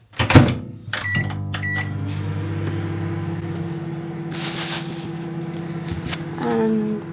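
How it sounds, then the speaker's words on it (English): A microwave oven in a bed-and-breakfast kitchen is heating beans, opening with a door clunk and beeps before a steady loud hum runs on, with a few clatters and beeps near the end. "Beans back in the microwave."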